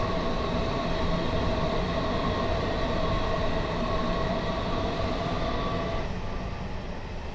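A train runs along the Met line in Train Sim Classic, a loud continuous rumbling roll with steady whining tones that drop away near the end.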